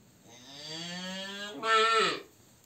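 A cow in a farm shed gives a single long, drawn-out moo that swells louder near the end, close and clear with no talking.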